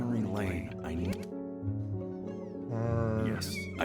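A cat meows several times with drawn-out, wavering cries in the video game Before Your Eyes, heard close and clear while a voice talks over parts of it.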